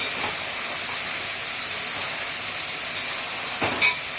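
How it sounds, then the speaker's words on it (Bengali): Water poured into a hot pan of sautéed chicken, a broad steady hiss that fills the whole stretch close up, with a few brief louder bursts of bubbling near the end and no voices. "দেখো চিকেনটা কখনো কমপ্লিট, এবার আমি এর মধ্যে জল দিয়ে দিচ্ছি।"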